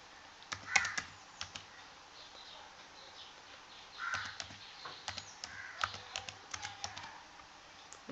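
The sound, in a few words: typing UAN number on a computer keyboard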